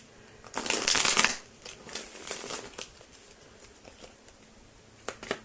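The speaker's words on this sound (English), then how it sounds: "No, keep shuffling." Tarot cards are shuffled by hand in a few quick riffling bursts, close and crisp, with softer handling sounds in between and no talking.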